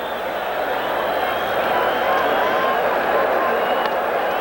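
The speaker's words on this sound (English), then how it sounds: "He receives a standing ovation here, pitching a fine ball game." A sellout crowd at Shea Stadium gives a baseball pitcher a standing ovation during a 1988 Mets–Phillies game, a steady loud roar of cheering and clapping that swells slightly midway and continues throughout.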